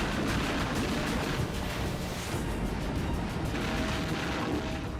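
Heavy shelling and artillery fire striking targets in Ukraine, a dense, continuous roar of rumbling blasts and booms that blur together with no clear gaps, loud and sustained.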